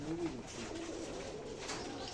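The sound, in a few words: pigeons cooing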